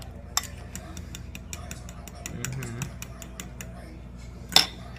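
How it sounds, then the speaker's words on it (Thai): Eggs beaten in a bowl with a fork or utensil, a rapid rhythmic run of light clicking taps close by, ending with a louder knock against the rim, with faint background noise. "เราตีไข่ ก่อน แต่นี่ก็นี่ค่ะแป๊บเดียว ไข่มันตีง่ายเนาะ"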